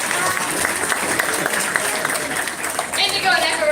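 An audience claps steadily at a live event, a dense wash of applause with some crowd voices mixed in, holding at an even level throughout.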